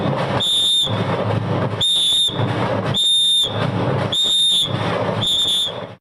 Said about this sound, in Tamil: பவுன்சர்கள் முகத்தின் அருகே சென்று விசில் ஊதி வெளியேற்றியதால் பரபரப்பு ஏற்பட்டது